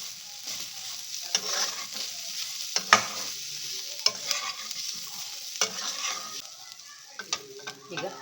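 Raw banana palya with coriander leaves and grated coconut being stirred in a pan: repeated scraping spoon strokes and small clinks over a light, continuous sizzle, fairly close.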